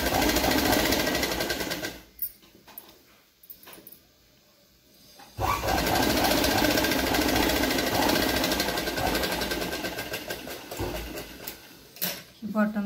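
A sewing machine stitches a 1-inch hem on boxer shorts, a loud rapid rattling whir that runs, pauses for a few seconds, then resumes steadily while a person talks over it.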